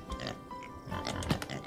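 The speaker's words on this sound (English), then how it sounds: "Nice, just hanging out with the pigs" Pigs grunting and oinking in the Farm Together farming video game, a few short snorts over a steady backdrop of game music and ambient farm sounds.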